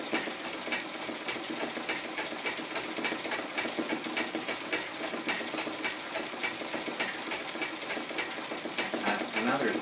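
A treadle sewing machine stitches embroidery with thread fed from a spool, giving a steady, fast clatter of needle strokes at an even rhythm that runs the whole time at moderate, close volume.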